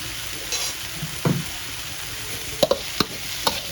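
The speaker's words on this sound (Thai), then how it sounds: "คั่วไปเลยค่ะ คั่วให้เหลืองนะคะ" Herbs stir-fried in oil over low heat for shrimp with shrimp paste, a soft continuous sizzle broken by several sharp spatula scrapes and taps against the pan near the end.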